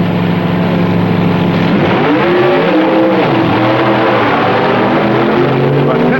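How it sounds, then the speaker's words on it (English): Supercharged gas drag racing cars from 1965 launch down the strip with a loud, continuous engine roar. The engines sweep up and down in pitch as the cars pass, and a voice talks over them. "In the A-Gas Supercharged run, it's K.S. Pittman again versus the Yellow Coupe."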